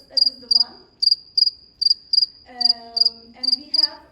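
Immaculatus crickets chirp in regular, crisp high trills, repeated pulses about twice a second, close and clear, with a low rustling or warbling background underneath.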